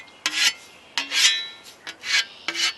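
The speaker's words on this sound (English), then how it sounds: "So to sharpen it, you would take a couple swipes back" A scythe blade is sharpened with four separate rasping swipes, each a short, bright metallic scrape, spaced about half a second apart with quiet gaps between them, with no speech.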